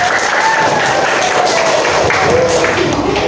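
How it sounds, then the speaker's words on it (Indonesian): Classroom full of students clapping together, a dense, busy patter of hands with some crowd murmur and voices mixed in, loud and close throughout. "Tepuk tangan yang meriah ya."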